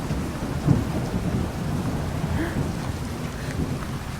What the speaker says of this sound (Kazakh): Аспан найзағай қатты болып жатыр.